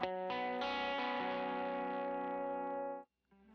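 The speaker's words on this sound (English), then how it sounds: "I'm running one overdrive the entire song for this EG2 part" A lightly overdriven electric guitar strikes a few quick notes, then lets a full chord ring out and sustain before it's cut off.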